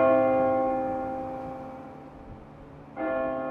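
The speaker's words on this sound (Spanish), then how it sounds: "Las campanas de la Basílica Maronita suenan suavemente" Church bells of the Maronite Basilica in Lebanon ring out with a long resonant toll that slowly decays, followed by a fresh strike near the end, heard alone at moderate distance.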